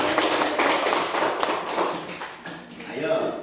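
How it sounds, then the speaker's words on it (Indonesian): Classroom audience in an Islamic religious education teaching session applauding, a dense burst of clapping that fills the space for a few seconds before tapering off. "Oke, tepuk tangan."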